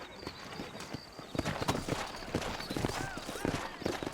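Horse hooves clip-clopping at a steady walking rhythm in a Western frontier video game town, close and fairly loud, with faint background ambience and occasional light noises around the footfalls.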